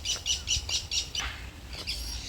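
Birds in a bird aviary at Kothwalguda Eco Park in Hyderabad give a run of quick, bright, repeated chirps and squawks, some overlapping, heard fairly close with faint background hum and no talk.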